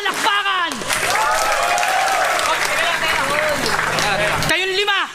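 Loud crowd applause and cheering fills an audience at a Filipino FlipTop rap battle, sustained for about four seconds between brief shouted voices at the start and end.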